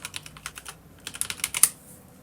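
Quick clicks of typing on a computer keyboard, two short bursts of keystrokes separated by a brief pause, close and clear.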